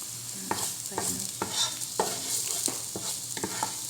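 Garlic sautéing in a pan sizzles under rhythmic stirring, with regular scraping strokes roughly every half second, close and without talk.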